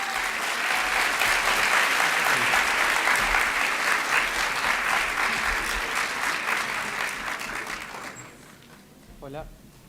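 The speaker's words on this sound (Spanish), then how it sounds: "Un aplauso para Matías." An audience at the MCA Festival applauds Argentine speaker Matías de Stefano, a dense, sustained round of clapping that gradually fades, followed by a brief microphone sound at the end.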